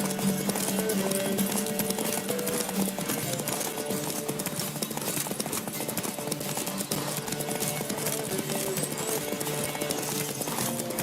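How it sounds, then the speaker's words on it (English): Galloping horse hooves in The Witcher video game, a fast, steady clip-clop rhythm running throughout at close range, with a muffled voice and game music underneath. "Don't spare the horse!"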